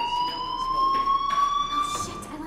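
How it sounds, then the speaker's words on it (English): In the video game Life is Strange Remastered, a fire alarm rings with a steady high electronic tone that rises slightly in pitch, held continuously at moderate volume. "do you hear that fire alarm?"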